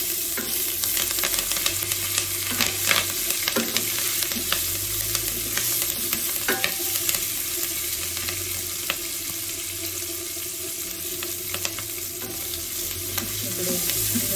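Curry leaves, green chillies and asafoetida fry in hot oil in a pan, giving a steady, close sizzle with light stirring scrapes and no talking.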